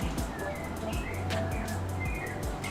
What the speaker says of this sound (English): But you guys hear the birds outside?